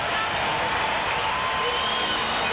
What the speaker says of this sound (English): Sellout crowd on their feet.